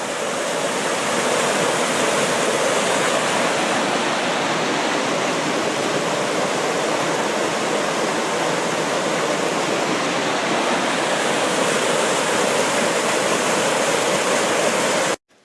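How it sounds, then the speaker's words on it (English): A small waterfall beside a forest hiking trail pours in a steady, dense rush of falling water, close and loud for the whole stretch, with no voices. "Here's our first little waterfall, the Overlooked Falls here."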